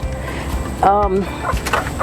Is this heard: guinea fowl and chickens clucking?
yes